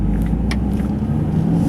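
A fairly old-fashioned manual car's engine is blipped to match revs for a downshift. It gives a steady, close, throaty rumble with a low hum, with no talking.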